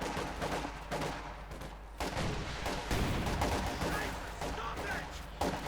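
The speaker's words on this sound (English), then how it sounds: "Bit of a lot of shooting here." Battle gunfire in the Company of Heroes 2 strategy game forms a dense, continuous rattle of shots and distant blasts, with a commentator talking over it.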